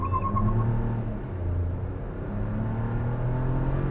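A 2020 Proton X50 with a three-cylinder engine launching hard from standstill in sports mode, a loud, steady engine drone with rising harmonics building through the cabin, heard alone.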